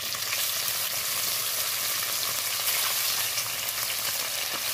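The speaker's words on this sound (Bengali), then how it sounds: "আস্তে আস্তে আমি মাছটাকে ভালো করে ভেজে নেব, লাল করে আর ভেজে তুলে নেব।" Fish frying in a little oil in a pan makes a loud, steady, dense sizzle that stays even throughout, with no talking.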